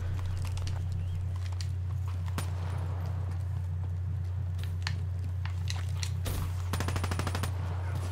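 Gunfire rings out in a multiplayer shooter video game: scattered shots, then a rapid automatic burst near the end, all over a steady low electronic hum.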